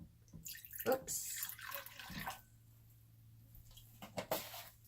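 Homemade liquid soap poured from a container, giving quiet splashing, trickling bursts that start and stop in short spurts, with a brief spoken word in between.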